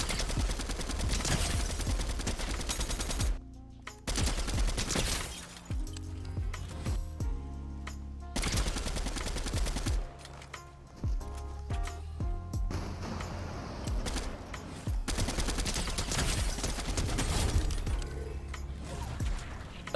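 Dense video game gunfire sprays in long, loud bursts aimed at the player, broken by brief pauses and clattering mechanical sounds, with the rapid shots running almost continuously.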